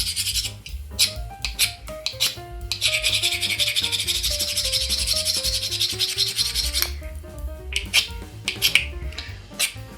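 A blade scrapes the coating off a cheap survival-kit fire striker rod in quick, close rasping strokes that come in repeated bursts, with no talking.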